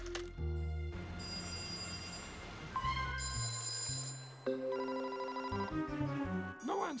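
In a cartoon, a telephone rings on and on with no one answering: a bright, musical ringing that repeats in bursts and changes pitch over about seven seconds, heard up close with no talking.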